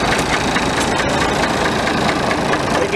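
An International 1586 tractor engine runs steadily nearby, a loud rough idle with a rhythmic knocking chug throughout.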